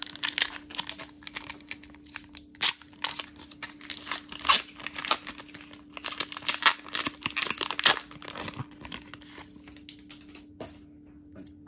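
Foil booster pack wrapper for Pokémon trading cards being torn open and crinkled, with crisp rustling and crackling bursts running through the whole stretch at close range, continuous and fairly quiet.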